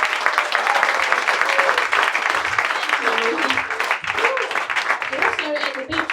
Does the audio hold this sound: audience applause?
yes